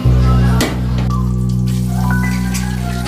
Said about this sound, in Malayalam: ഓക്കെ, പപ്പടമൊക്കെ വറുത്തു, പക്ഷെ കരിഞ്ഞു പോയി ഗൈസ്